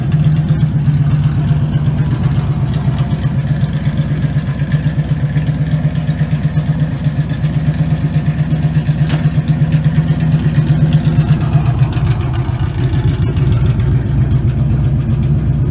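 A loud 1978 Chevy G10 van engine runs steadily with a raspy, throaty open exhaust, rumbling and clattering continuously with slight rises in revs.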